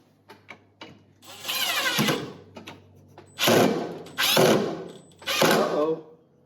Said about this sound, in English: Let's finish screwing these down.